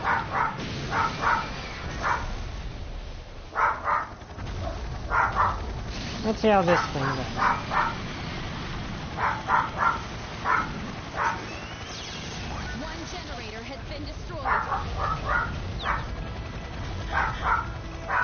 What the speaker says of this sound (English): That's our dog. She sees something that's got her agitated.